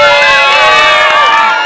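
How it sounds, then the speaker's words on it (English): A group of people cheers and screams loudly together, as if celebrating a home run, a dense burst of overlapping shouts and whoops that holds steady for under two seconds. "we're going to jump up and scream like we just hit a home run"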